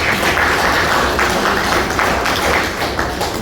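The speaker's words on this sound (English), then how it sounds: "Clap for yourself." An audience at a Harvey city meeting claps in a loud, dense burst of applause that stays steady throughout, with no talk over it.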